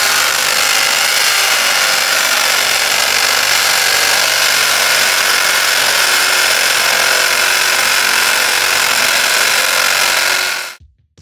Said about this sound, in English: then just bore some holes until you can knock it out